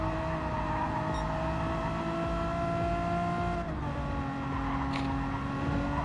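Renault Megane Trophy race cars in a racing video game, a steady sustained engine drone with smooth pitch shifts as the cars hold speed around a corner, continuous and fairly loud with no talk.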